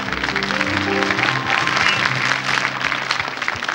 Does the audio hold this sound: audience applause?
yes